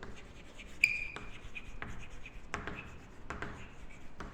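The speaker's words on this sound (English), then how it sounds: "let me write the meaning" Marker or chalk writing on a board during a business studies class, with scattered squeaks and short taps of strokes at moderate level, alone and without talk.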